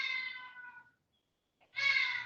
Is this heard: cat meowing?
yes